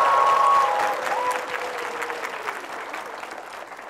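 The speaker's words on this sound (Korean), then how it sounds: "계속 지금 박수로 격려를 해주신" A studio audience of parents, teachers and students in Ulsan applauds, with a full roar of clapping that slowly thins and fades while a faint tone briefly sounds at the start.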